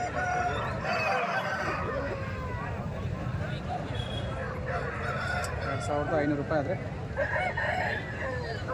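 Native country roosters crow loudly at a busy poultry market, with hens clucking around them and people talking throughout amid the crowd noise.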